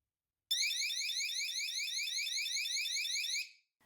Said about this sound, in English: the alarm on the Detector 2 is 100 decibels